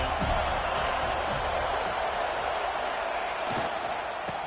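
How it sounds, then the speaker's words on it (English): A large football stadium crowd at a Florida State game roars as a dense, steady wash of noise, loud and continuous for the whole stretch without letting up. "This crowd ready to make its presence known."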